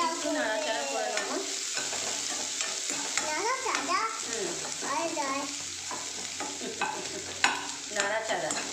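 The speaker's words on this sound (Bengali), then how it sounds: "পেঁয়াজটা দিয়ে একটু নাড়াচাড়া করে নেবো" Fried onion stirred around in a frying pan with sliced capsicum and egg curry ingredients, a close sizzle broken by scraping spatula strokes, with a voice faintly in the background.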